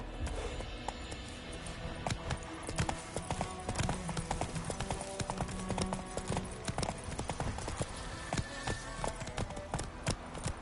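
The horse Roach gallops in the video game The Witcher III, its hooves beating a fast, continuous clip-clop rhythm, moderately close and steady throughout.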